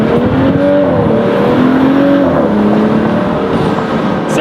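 A tuned BMW 435i Gran Coupe with downpipe and intake upgrades pulls hard in third gear, its engine note rising steadily as the turbo spools, loud and close throughout with no talking.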